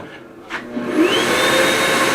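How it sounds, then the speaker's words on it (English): A motion-activated blow dryer at a campground switches on and runs as a steady, loud rushing whoosh of air that swells up and holds. "get underneath the old blow dryer and you can get yourself nice and dry"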